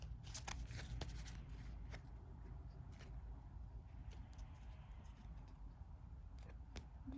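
Cards from the Splendor board game are dealt and laid out on a table, soft close flicks and slides against a low steady background hum.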